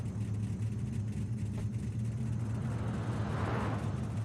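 An old-school muscle car in Forza Horizon 5 idles with a deep, low rumbling throb, steady and close, with no other sounds above the engine.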